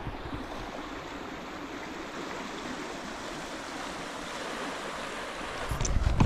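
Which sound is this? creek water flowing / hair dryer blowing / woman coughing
creek water flowing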